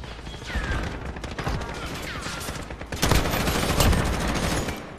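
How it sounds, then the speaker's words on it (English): Rapid bursts of incendiary shotgun fire in Call of Duty Modern Warfare multiplayer, loud close blasts stacked into a dense barrage, growing heavier in the second half. "they're using fire shotguns now"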